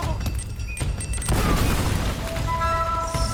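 A grenade in Uncharted goes off in a deep, loud boom that swells midway and leaves a rumbling, debris-filled tail, with a voice faintly present.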